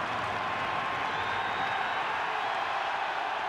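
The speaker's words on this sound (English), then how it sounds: "Al Harris gets the crowd in that area to react" Stadium crowd at a Packers home football game against the Vikings, a steady, distant roar of cheering and applause filling the whole moment without a break.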